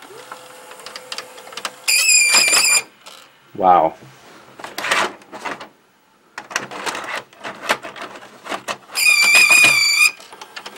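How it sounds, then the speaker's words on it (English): An old VHS VCR squeals around its capstan and pinch roller: two loud, shrill tonal bursts of about a second each, one early and one near the end, with mechanical rattles and a person's voice in between. "It made us some kind of a squeal noise around the capstan here"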